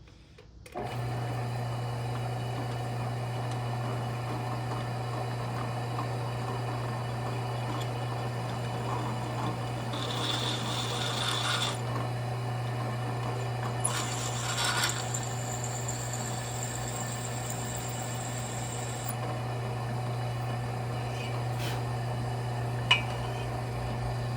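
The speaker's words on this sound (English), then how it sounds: "So let me change the bits and we'll get drilling." A drill press boring holes in steel knife blanks with an F-size bit, the motor humming steadily and close throughout, with a few brief higher-pitched bursts of cutting as the bit bites into the metal, no talking.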